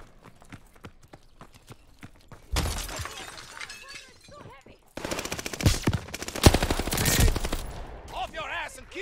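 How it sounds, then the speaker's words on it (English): Gunfire in Call of Duty: Vanguard, with scattered shots opening into dense, loud automatic bursts and sharp individual cracks, mixed with crashing battle effects across the clip. "Off your ass and keep shooting."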